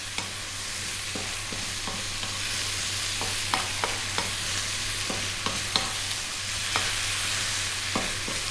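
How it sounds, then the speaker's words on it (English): Sausage pasta sizzles steadily in a pan on high heat, with a constant frying hiss and small clicks and scrapes from stirring throughout. "we're going to go for about another 3 or 4 minutes, stirring pretty much all of the time"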